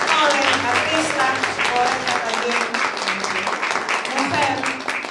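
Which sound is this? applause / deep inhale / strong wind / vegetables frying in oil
applause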